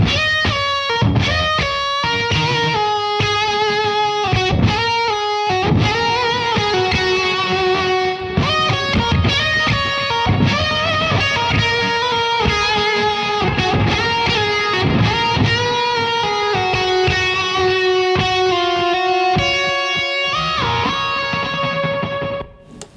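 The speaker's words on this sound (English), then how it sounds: "Was able to go back to that rhythmic delay, which is just really, really great" Electric guitar run through a Source Audio Nemesis delay pedal set to a rhythmic delay, with Dirty Shirley overdrive tones, heard as a loud, dense full-band mix with repeating sustained notes and strummed chords throughout, no talking.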